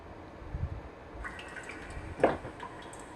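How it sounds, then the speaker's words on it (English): Water dripping in the horror video game Home: a few faint drips and a soft splash over a quiet low ambient hum, sparse and close. "Drip."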